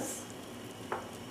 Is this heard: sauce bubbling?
yes